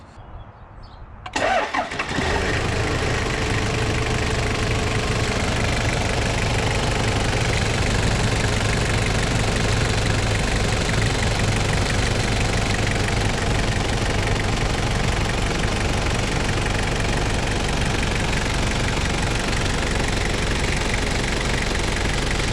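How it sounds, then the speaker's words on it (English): A Toyota Prado Landcruiser engine cranks briefly and catches after a moment of near silence, then settles into a loud, steady, even idle that runs uninterrupted to the end. "we'll go and start the vehicle now"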